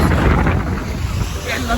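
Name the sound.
strong wind at the seaside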